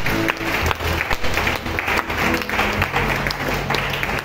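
A church congregation claps and cheers in a dense, steady wash of applause that fills the room for several seconds, loud and continuous with a few voices mixed in.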